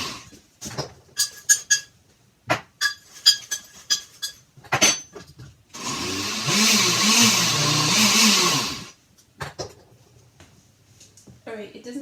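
A food processor grinds crackers into crumbs for a lemon meringue pie crust, a loud steady whirring roar that runs for about three seconds in the middle, framed by clinks and handling noises before and after.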